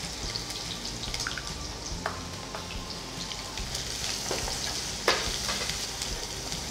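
Soya beans frying with pepper in a pan, a steady close sizzle with occasional stirring scrapes and a couple of sharper pops, no voices.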